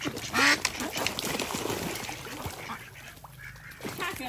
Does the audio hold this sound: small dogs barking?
no